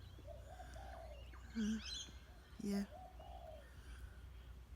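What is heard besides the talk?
small bird calling outdoors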